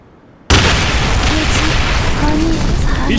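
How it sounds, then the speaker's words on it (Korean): A thrown grenade goes off in a video game, a sudden loud burst after near silence followed by a sustained roaring, rumbling blast. "수류탄 투척."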